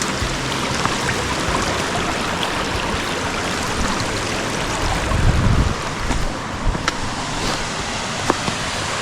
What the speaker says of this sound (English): There's a nice little waterfall over there.